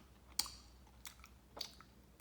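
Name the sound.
chewing Krispy Kreme Halloween doughnut with chocolate and fudge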